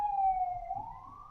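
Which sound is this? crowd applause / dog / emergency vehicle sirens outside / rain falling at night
emergency vehicle sirens outside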